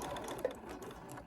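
A sewing machine backstitches through batik cotton in a short, steady, close mechanical whir of rapid needle strokes, with no voices.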